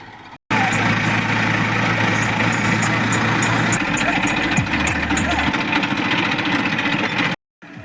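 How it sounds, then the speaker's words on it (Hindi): A tractor engine pulling a harrow chugs loudly and steadily with a rough, knocking rhythm, holding a constant throbbing drone throughout before cutting off at the end. "ताऊ बैठ गए हैं ट्रैक्टर पर और चलते हैं।"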